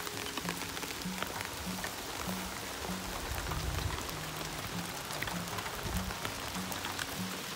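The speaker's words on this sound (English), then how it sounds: "Raining in the garden." Steady rain falls in a vegetable garden with pepper plants, a dense even patter of drops throughout, alongside a faint repeating low hum and no voices.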